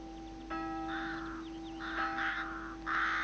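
Crows caw several times, a string of harsh, close calls over a steady low hum, with no voices.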